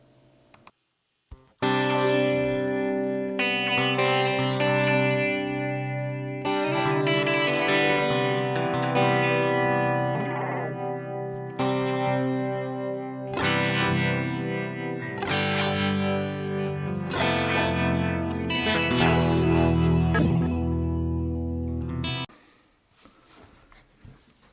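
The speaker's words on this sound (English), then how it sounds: "Another effect in this pedal is the spectral delay kind of a sound. It's a really kind of an odd sound" A guitar pedal's spectral delay effect gives a loud, odd, shimmering processed guitar tone that plays in repeated phrases with smeared echoes for about twenty seconds, then cuts off.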